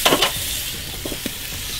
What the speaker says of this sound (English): We're gonna give the steaks a flip.